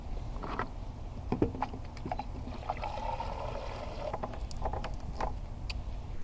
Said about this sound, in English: Refilling it up with coolant.